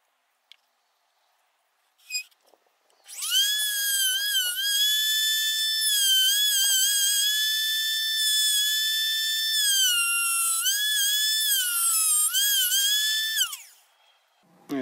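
A rotary cutter trims the edges and corners of a GameCube motherboard, giving a loud, steady high-pitched whine. The tone wavers in pitch under changing load for about ten seconds, then spins down. No one speaks.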